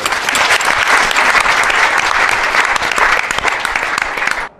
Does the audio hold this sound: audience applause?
yes